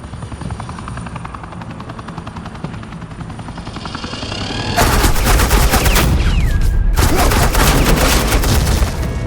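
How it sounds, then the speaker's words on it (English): Agent Quinn lays down suppressing gunfire in Telltale Batman: The Enemy Within, a loud sustained burst of rapid automatic shots over helicopter rotor noise, with a brief pause before the firing resumes. "suppressing fire."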